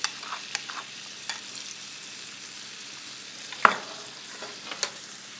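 Melted butter sizzles on tandoori chicken in a pan, a soft steady hiss broken by a few sharp clicks and one louder pop, close and without talk.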